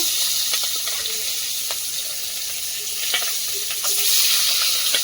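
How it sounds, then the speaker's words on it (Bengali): Hot oil sizzles and crackles steadily as fish fries, with occasional sharper spits and pops and no talking. "তেলটা গরম হয়ে গেছে, মাছগুলো ভেজে নেব।"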